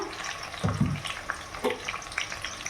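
Tomato and onion frying together in a pan, a soft steady sizzle with a few brief stirring scrapes near the start, close and moderately loud with no voices.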